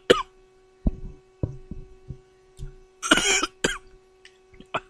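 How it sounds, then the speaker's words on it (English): Several sharp coughs and throat-clearing bursts after drinking Mountain Dew the wrong way, close to the microphone, scattered across a few seconds with a faint steady hum underneath. "I drank my Mountain Dew the wrong way. I had a cough."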